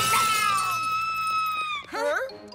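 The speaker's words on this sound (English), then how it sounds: "you broke my mirror" A mirror shatters in a cartoon scene, a bright crash of breaking glass followed by ringing, tinkling shards trailing off, then a short vocal wail or groan.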